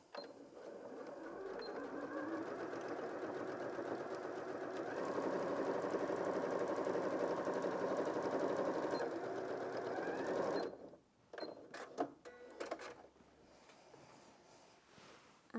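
A Janome M100QDC sewing machine stitches a seam in one steady, continuous run for about ten seconds, then stops, leaving a few short clicks and handling noises.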